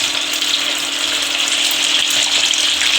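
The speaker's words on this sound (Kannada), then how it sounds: "ಇವಾಗ ಎಣ್ಣೆಯಲ್ಲಿ ಒಂದೊಂದಾಗಿ ಬಿಟ್ಕೊಳ್ಳೋಣ." Thin potato slices frying in hot oil, a dense, continuous hiss and sizzle, close and loud, with no talking.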